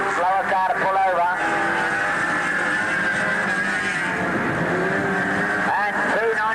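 Race cars lap Ringwood Raceway in 1986, their engines a continuous drone under an announcer's commentary.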